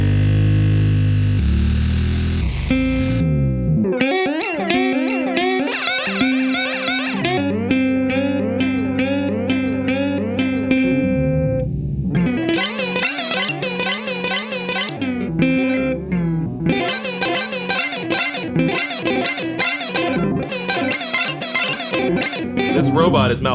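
Loud, glitchy guitar delay from a Chase Bliss MOOD pedal set to a long delay time and high feedback, repeats smearing and warping in pitch as the clock shifts, stuttering bursts over a sustained drone.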